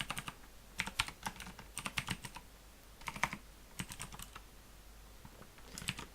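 Bursts of typing on a computer keyboard during Unity game programming, key clicks coming in quick clusters with short pauses between them, close and fairly quiet.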